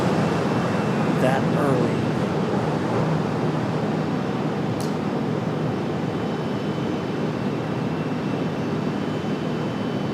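Jet airliner engines roar at a steady level, moderately distant, as a plane lands on the runway at Raleigh-Durham airport, while someone briefly talks over the sound.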